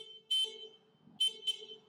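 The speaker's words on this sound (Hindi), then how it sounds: "तो ये कुछ इस तरह का इसका हॉर्न होने वाला है।" Horn of an electric sports bike sounding in three short, loud electronic toots, the second and third close together, with quiet pauses between.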